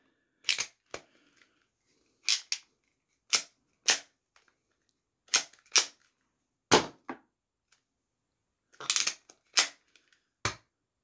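A Star Trek Nerf Type 2 phaser blaster being cocked and fired, heard as sharp, close mechanical snaps and clicks, often in quick pairs, with silence between.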